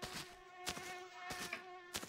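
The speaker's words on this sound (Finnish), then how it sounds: "noin hyttyset riivaa niin riivatusti" Mosquitoes buzzing in the video game My Summer Car, a thin steady whine with several close passes swelling loudly past the ear, no talking.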